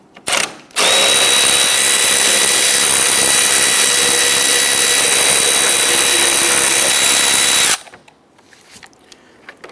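A power driver loosens and removes the 10mm bolts across the top of the radiator area on a 2011-2019 Ford Explorer: a loud, close, continuous high whine for about seven seconds, then it cuts off to quiet handling sounds.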